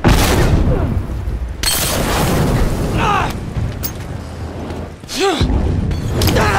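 A bomb goes off in The Last of Us Remastered game combat on a dam, with heavy booming blasts, mechanical clatter and bursts of noise, mixed with game character voices.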